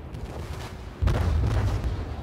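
A cruiser's gun salvo in World of Warships, a Chester class ship firing its bow guns, lands as a sudden loud deep boom that rolls on with sustained low rumble after a quieter stretch of background battle noise.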